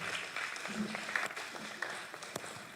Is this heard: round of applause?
yes